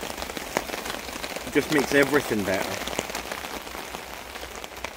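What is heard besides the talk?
rain falling on a tarp in the woods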